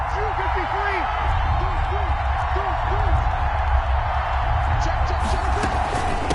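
A dense, steady roar of a large football stadium crowd during an NFL Saints game on a tense third down, broad and continuous with a commentator talking over it.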